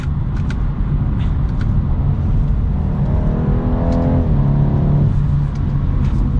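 2023 BMW 230i M Sport coupe driving through a turn at normal speed, steady loud cabin road and engine drone with a rising then settling engine note mid-way.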